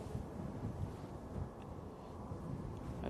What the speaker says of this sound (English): Let's say it's getting worse, the wind.